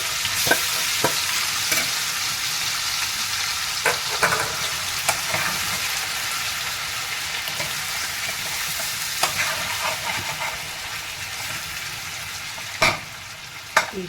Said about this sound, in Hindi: एक बार आप अपनी कलछी से अच्छी तरह से सारे मसाले आलू के साथ जो है उसको अच्छी तरह से चला लीजिए।